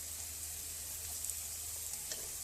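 Capsicum rice mixture with salt is stirred in a pan on the stove, a soft, faint sizzle with light scraping taps near the end.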